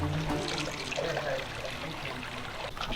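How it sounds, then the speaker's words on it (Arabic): Water flows steadily through a small falaj irrigation channel feeding crops in a mountain village in Oman: a continuous soft trickling and gurgling wash at a moderate distance, with no talk. "عاملين فلج صغير هون هيك عشان اللي ضل من المزروعات أصلا تيجي عليه المية"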